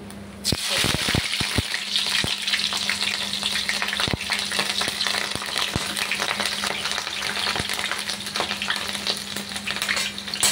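Fennel seeds spluttering in hot oil in a pan for egg gravy, a steady loud sizzle broken by sharp popping crackles, most frequent early on, with no talk.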